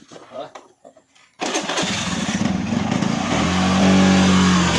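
A motorcycle engine catches after a brief start and settles into a loud, close idle that steadies and rises slightly, following a moment of quiet rustling and a few voices.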